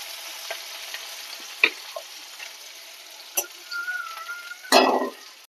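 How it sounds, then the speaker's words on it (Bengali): Onions frying lightly in oil for a potol chingri curry, a soft sizzle running under scattered stirring clicks and a few louder utensil knocks, close and fairly quiet. "তেলে দেবো অল্প পেঁয়াজ। পেঁয়াজটাকে একটু হালকা ভেজে নেব।"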